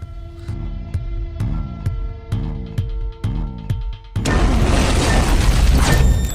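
A loud bomb explosion in a crime drama bursts in abruptly and roars on, following several seconds of rhythmic, pulsing mechanical throbbing.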